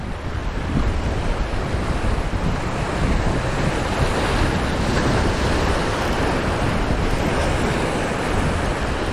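Steady wind roars across the microphone at a seaside fishing spot, with surf rushing beneath it in an unbroken, loud wash. No voices are heard.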